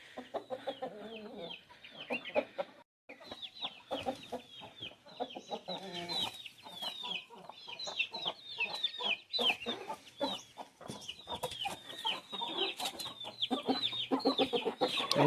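Chickens from a high-flyer breeding line cluck and chatter continuously at close range, with many overlapping calls and a few short pauses, while birds stir and shuffle nearby.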